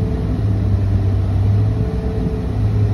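Yamaha outboard boat engine settling to a steady idle after the throttle is released, a close, continuous low droning rumble with an even hum and no voices.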